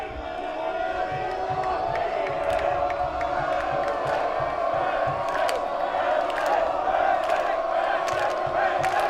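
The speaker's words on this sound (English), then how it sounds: "Crowd getting behind RPI." A college football stadium crowd roars and cheers in a sustained wall of noise, with whoops and shouts rising over the steady din, no clear talk on top.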